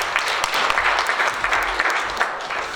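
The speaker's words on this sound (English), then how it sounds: "let's give her a round of applause." An audience at an academic evening event in a hall applauds. The clapping is dense and steady, with many hands clapping together at a moderate distance and lasting the whole moment without talk.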